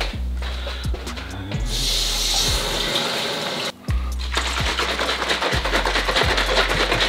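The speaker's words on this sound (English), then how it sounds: "Add a little bit of water." Water poured from a tap into a protein shaker holding three scoops of protein powder, a steady close rushing splash that runs for several seconds with a brief pause midway.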